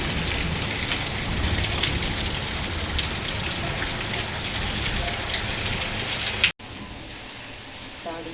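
A steady, even hiss of light afternoon rain fills the air, cut off by a brief break near the end, with a faint voice in the background.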